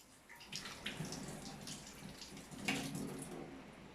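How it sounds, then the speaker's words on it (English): Tap water running while hands are washed, a faint splashing flow that swells and splatters irregularly as hands move under the stream, with no talking. "So you will wash your hands with water."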